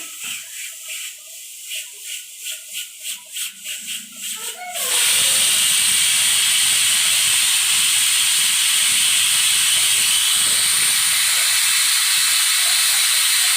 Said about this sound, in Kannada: ನೋಡಿ ಕುಕ್ಕರ್ ವಿಸಿಲ್ ಬರ್ತಿದೆ